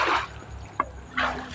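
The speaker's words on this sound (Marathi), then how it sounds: "कुंडातलं पाण्याला सारखे बुडबुड येत राहतात" Soft gurgling water with bubbly bursts near the start and end and a brief plop in between, close by and fairly quiet, as water bubbles up in a pond at an ashram on the Narmada parikrama route.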